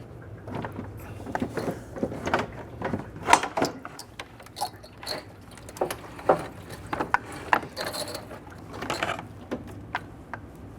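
Ratcheting clicks and metallic mechanism noises from a 22mm wrench loosening transmission cooler line fittings during radiator replacement on a 1999-2004 Jeep Grand Cherokee 4.7L V8, irregular close-up bursts throughout with no speech.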